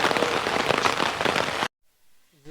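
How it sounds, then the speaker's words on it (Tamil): Steady rain pours down in Coorg with a dense, loud hiss, cutting off abruptly near the end and followed by a brief faint voice. "மழை வந்துடுச்சு."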